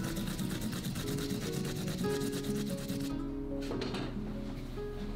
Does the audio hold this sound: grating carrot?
yes